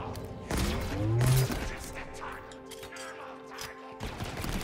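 Weapon fire in the shooter game Halo Infinite, a loud cluster of sharp shots and impacts early on, then a quieter stretch of humming tones before another short burst.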